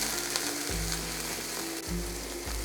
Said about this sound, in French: ainsi que la citronnelle et je vais faire dorer pour 3 à 4 minutes